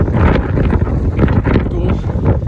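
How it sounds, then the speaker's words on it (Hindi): Strong wind buffets the microphone on a foggy hilltop at a hill station near Chikhaldara, a loud, continuous gusting rumble that swells and eases. "इतनी हवा चल रही है, कैमरा भी स्टेबल नहीं कर रहा है"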